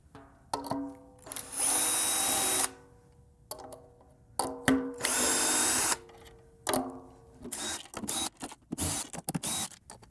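A cordless power drill whirs in several bursts of a few seconds each, with short clicks and pauses between them, while heads and snare wires are swapped on a D'Addario-fitted snare drum; close and fairly loud, no talking.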